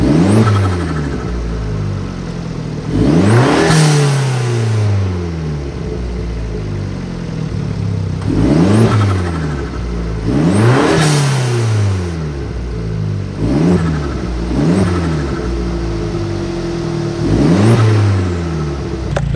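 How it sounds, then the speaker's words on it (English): Italian supercar with a turbocharged engine revving repeatedly, loud swelling rises and falls with whooshing turbo spool, heard close up without talk. "It makes really, really nice turbo sounds."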